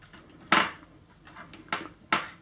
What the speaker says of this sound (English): Open the lid up